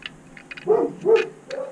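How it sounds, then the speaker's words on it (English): A couple of dogs bark outdoors, a few quick barks in succession at moderate distance, with no talk. "I got two dogs out here barking now."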